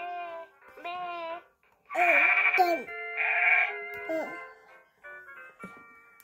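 A child imitates a goat with a string of wavering, nasal bleats, some loud and drawn out, others short, close up in a quiet room, between brief silences.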